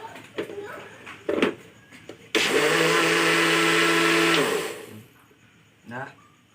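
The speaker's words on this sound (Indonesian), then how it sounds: "Bahan-bahan yang sudah saya sebutkan tadi, sekarang kita masukkan ke dalam blender." A kitchen blender grinds rendang spice ingredients with a loud, steady high whir lasting about two seconds before winding down. A person speaks before and after it.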